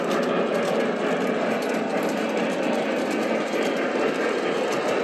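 A model train pulling a heavy consist of die-cast freight cars, boxcars and wood chip cars, rolls along the track with a continuous close mechanical whir and rattling clatter, steady and fairly loud.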